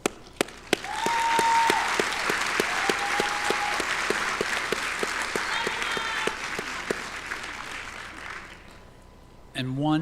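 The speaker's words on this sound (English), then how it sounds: "one final round of applause for our graduates" A large audience at a winter college commencement ceremony claps for the graduates in sustained, dense applause that fades near the end, with a few louder individual claps standing out.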